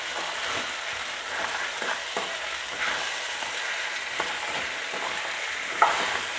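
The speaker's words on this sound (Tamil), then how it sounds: "தேவையான அளவு கல் உப்பு சேர்த்து இதையும் சேர்த்து நல்லா கிண்டி விட்டுக்கலாம்" Peas and potatoes sauté in a hot pan with rock salt, stirred by a spoon: a continuous sizzle broken by scraping strokes and one sharper clink near the end, close and fairly loud, with no voices.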